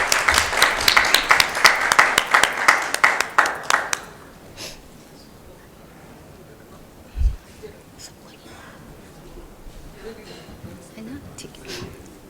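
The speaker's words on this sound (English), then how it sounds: "Let's give them a huge round of applause." Audience applause at a wellness awareness conference, a short burst of clapping that is fairly loud for about four seconds and then stops, leaving a quiet room with faint murmuring and one low thump.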